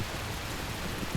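Steady heavy rain during an Indian monsoon night, a dense even hiss of falling water with faint low rumble underneath, continuous and enveloping with no voices.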